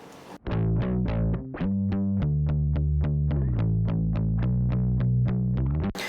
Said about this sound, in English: one of my favorite bass plugs, the old Sans amp, which gives it some distortion